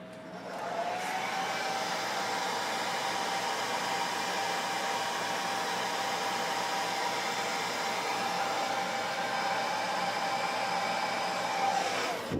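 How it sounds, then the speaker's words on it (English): Blow dryer drying airbrushed paint, a loud, steady whooshing roar switching on and running unbroken for about twelve seconds before cutting off, heard alone. "blow dryer without ripping my airbrush down."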